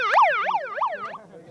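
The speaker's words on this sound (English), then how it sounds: "Please, give us a siren." A siren at a university karting championship wails in rapid, repeated up-and-down sweeps, loud and close, about four cycles before it winds down and stops.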